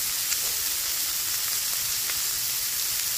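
Garlic and onion sauté for pork adobo in a pan, giving a steady close sizzle and hiss with faint stirring scrapes, with no talking over it.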